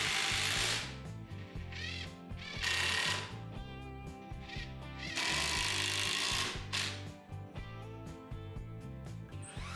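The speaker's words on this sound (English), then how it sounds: "I pre-drilled some holes in the ends of the 2 longer boards and then attached them to the shorter boards" A power drill drives into wooden boards for a small base in repeated whirring bursts with short pauses, close and fairly loud, and no one speaks.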